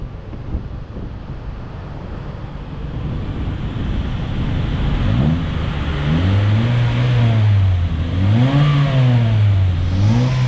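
An automatic Honda Jazz with an aftermarket exhaust muffler idles with a low drone, then revs several times in quick rising and falling swells under steady outdoor wind noise.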